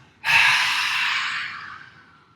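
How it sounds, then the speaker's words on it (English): A single long exhale after a held breath during yoga practice, starting abruptly as a forceful, breathy rush of air close to the mic, then fading slowly over about two seconds. "Holding your breath and then breathe out."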